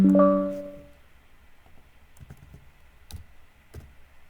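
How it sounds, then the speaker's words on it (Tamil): Keys tapped on a computer keyboard while typing a sample Python program, a few sparse, soft clicks in a quiet room, following a brief tonal sound at the start. "சாம்பிள் ப்ரோக்ராம் டைப் பண்ணுங்க"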